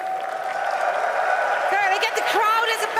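Crowd applause fills the Red Bull Wololo Londinium finals of Age of Empires 2, a steady clapping roar under a commentator talking, with some brighter cheers rising near the end.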